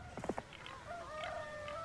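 A rooster crows once in the Heroes III video game, a short, clear cock-a-doodle-doo followed by a thin, sustained tone from the game's ambient sound.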